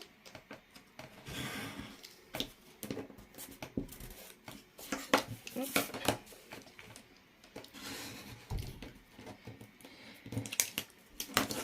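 Scissors snip through the four corners of a scrapbooking mini album cover, a series of close, quiet crisp cuts with light paper rustling and handling noises between them, no talk.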